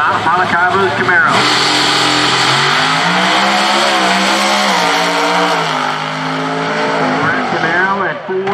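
An Extreme Pro Stock Camaro drag racing at the PDRA Summer Shootout at Virginia Motorsports Park, its engine roaring loudly and shifting pitch through the run, with an announcer talking over it throughout.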